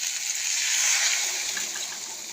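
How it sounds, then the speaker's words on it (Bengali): Water is poured into a cooking pot of stirred ingredients, making a steady, bright rushing splash that swells and then eases slightly over a couple of seconds. "জল দিয়ে দিলাম।"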